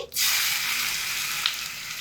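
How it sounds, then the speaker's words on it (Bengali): Whole bay leaves, dried chillies, cumin and garlic paste hit hot oil with a sudden loud burst of sizzling, which then holds as a strong, even crackling hiss from close by. "গরম তেলের মধ্যে দুটো আস্ত তেজপাতা নিয়ে নিয়েছি, ফোড়ন দিয়ে দিচ্ছি।"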